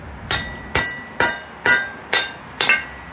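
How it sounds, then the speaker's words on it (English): Six sharp metallic hammer strikes on a kindling splitter, splitting logs, evenly spaced about half a second apart, each with a bright ringing clink, close and clear. "With a hammer and this Kindling splitter."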